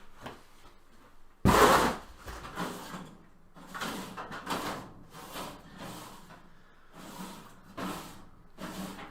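Several wooden drawers slide open and shut in quick succession during a search for a T-square, with sharp knocks and rustling rummaging between them.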